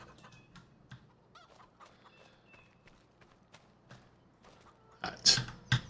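Virtual chickens cluck and peck softly in a Farming Simulator 25 farm game, with scattered quiet clucks and light footstep-like taps, then a louder cluster of squawks near the end.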